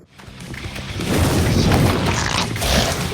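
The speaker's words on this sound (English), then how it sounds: "Grenade launcher." A grenade launcher fires in the Mutated Virus VR game on Quest 2, a deep booming blast that builds over a second and holds as a dense, rumbling roar under frantic game music.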